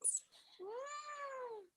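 A single drawn-out cat meow rises and falls with clear harmonics, heard close and alone in a quiet room after a brief faint sound at the start.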